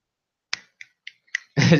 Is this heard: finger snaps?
yes